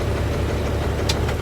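A truck's diesel engine runs steadily before being shut off during a Class A air brake test. The idle is loud and close, with a low rumble and a faint rhythmic knock throughout and no one talking.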